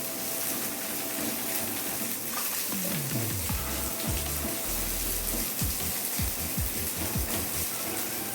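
Onions frying lightly in a small amount of oil for a potato curry give a steady soft sizzle throughout, with occasional stirring scrapes and low knocks of a utensil in the pan.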